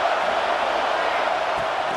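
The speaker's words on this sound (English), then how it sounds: "This dog crowd is off the leash, and they are coming after them, bringing noise on third down." A dense, steady roar from a stadium crowd making noise on third down in EA Sports College Football 26, loud and unbroken with no distinct cheers standing out.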